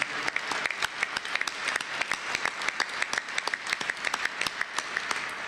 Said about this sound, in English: please, everybody, give them a round of applause and thank them for their service.